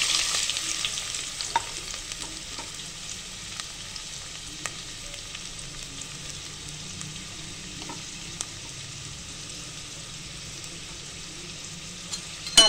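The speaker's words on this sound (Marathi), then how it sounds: "कांदा आपला आपण छानपैकी परतून घेणार आहे तेलामध्ये" Chopped onion sautéing in oil in a cooking pot, a steady, close, moderately loud sizzle with occasional stirring clicks, continuous throughout with no talking.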